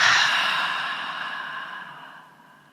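One long, audible breath let out slowly during a breathing exercise, loud at first and fading steadily over nearly three seconds, heard alone and close.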